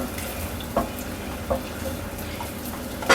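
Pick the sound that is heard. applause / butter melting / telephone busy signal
butter melting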